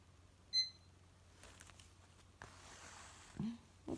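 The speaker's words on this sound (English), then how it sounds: "It beeped. I don't know what beeped." A short, high electronic beep chirps once near the start, faint and quick against a quiet room, with small rustles and a few soft knocks after it.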